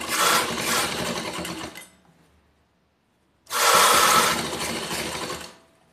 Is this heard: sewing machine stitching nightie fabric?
yes